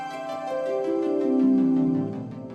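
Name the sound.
Prelude music from the video game Final Fantasy VII Remake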